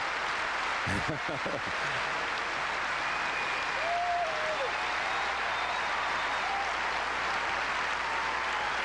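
Applause from a crowd at the 1996 Wimbledon women's final fills the court during the champion's lap, a steady wash of clapping with a commentator speaking over it and a brief thump near the start.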